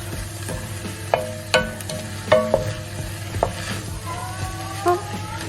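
Chilli con carne stirred in a pan, with a low sizzle under intermittent scrapes and clinks of a spoon against the metal, close and without talk.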